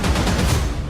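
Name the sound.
gunshots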